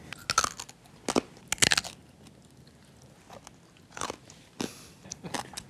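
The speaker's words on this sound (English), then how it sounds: "That is some good crunch." Crispy roast pork belly bitten and chewed up close, several loud crackling crunches in bursts separated by quieter pauses, no talking.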